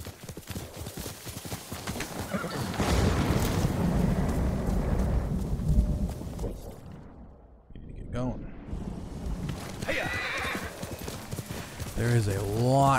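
Galloping hooves clatter steadily with a horse's whinny in Ghost of Tsushima on PS5, over game background noise and wind, while a person talks now and then.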